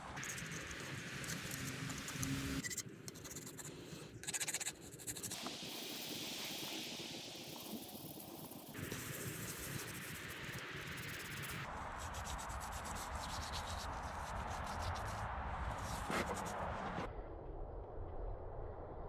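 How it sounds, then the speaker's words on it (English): A plastic scraper and a metal scraper work over an engine block from a K24 swap into a Civic Si FG2, producing continuous close scraping and rubbing with changes in texture and short breaks. "I have a plastic scraper, and then I have my my metal one, so I'm probably gonna just use both"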